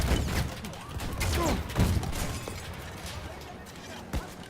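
Battlefield video game gunfire: a burst of rapid sharp shots and thuds early on, then scattered bangs and a late thump, mixed with other game noise and someone talking over it.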